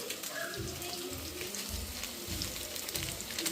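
Whole spices sizzle and fry in hot oil as biryani is being prepared, giving a steady close crackle with low rumbling underneath and no talking.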